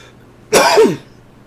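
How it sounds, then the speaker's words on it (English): One short, rough cough or throat-clear in a quiet room, over quickly, with faint background hum. "I'm not editing these coughs out"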